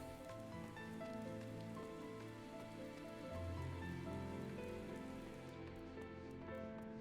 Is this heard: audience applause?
no